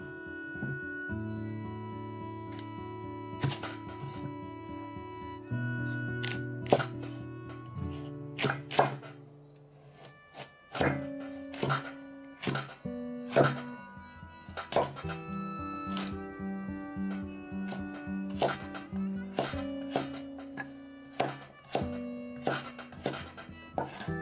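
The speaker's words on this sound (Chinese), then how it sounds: "把胡萝卜给切成长条" A knife chops carrots into long strips on a cutting board, steady rhythmic thuds coming in bursts with brief pauses, close and clear, while a sustained musical tone plays underneath.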